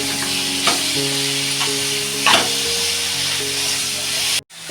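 Drumstick leaves hit a hot frying pan for a Maharashtrian leaf bhaji, setting off a steady, close sizzle with a few stirring scrapes, before a brief sharp drop near the end.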